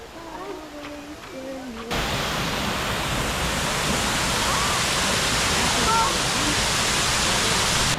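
A waterfall in Guatemala roars in as a dense, steady broadband rush after a brief quieter moment with a voice, then holds loud and unbroken for the rest.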